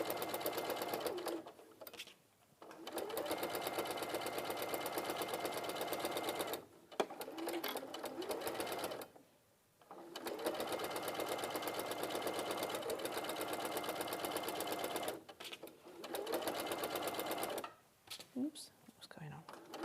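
A home sewing machine with a quarter-inch foot stitches through layered fabric in long, loud whirring runs of rapid needle beats, separated by short pauses where quiet voices murmur.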